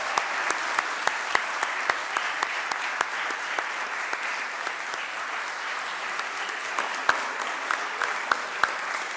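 Sustained audience applause at a humanitarian law moot court competition, with a dense even wash of clapping and a few sharper individual claps standing out throughout.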